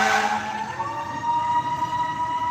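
A fire truck siren wails steadily at close range, a loud, sustained tone sliding in pitch over traffic noise, with no speech.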